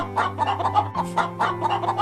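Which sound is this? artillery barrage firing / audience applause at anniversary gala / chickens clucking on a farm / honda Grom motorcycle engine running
chickens clucking on a farm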